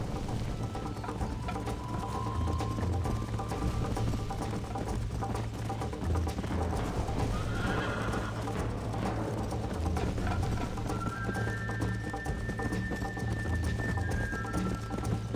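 Horse hooves clip-clop at a gallop in the Red Dead Redemption 2 video game, a continuous rapid rhythm close by with game music and a few tonal cues over it, no speech.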